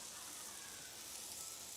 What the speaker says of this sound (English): Get that nice sizzle